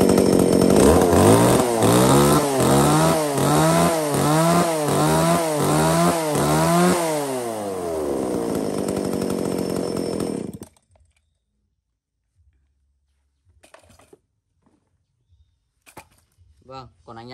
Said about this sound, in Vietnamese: Và con này thì có tích hợp là lam dài 35 phân, xích sử dụng là xích mini.